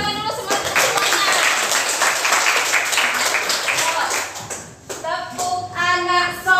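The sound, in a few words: children clapping hands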